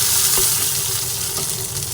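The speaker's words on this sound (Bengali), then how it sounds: "রসুন আর পেঁয়াজ একসঙ্গে ভালোভাবে নাড়াচাড়া করে ভেজে নিই" Chopped garlic and onion fry in a pan, a continuous, fairly loud sizzle heard up close with a couple of faint clicks and no voices.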